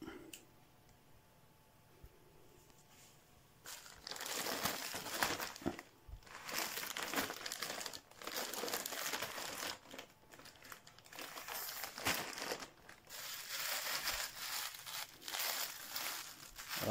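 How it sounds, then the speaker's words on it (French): Plastic wrapping being pulled off a newly delivered Scoot Scrambler Sirio scooter helmet, a close, steady run of crinkling and crumpling with brief pauses, following a few quiet seconds at the start. "On va t'enlever tous les plastiques."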